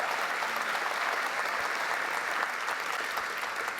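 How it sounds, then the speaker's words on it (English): An audience at a school building dedication claps steadily and evenly throughout, a dense wash of many hands close and continuous with no talk over it. "you should applaud yourselves"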